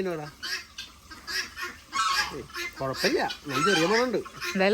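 Chickens and geese clucking and honking close by at a home, with several overlapping calls throughout and people talking over them at times.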